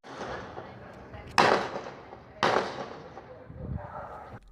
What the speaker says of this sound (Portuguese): O som dos disparos foi registrado por um vizinho